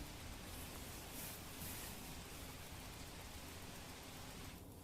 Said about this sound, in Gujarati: તાપી જિલ્લામાં અવિરત વરસાદ વરસી રહ્યો છે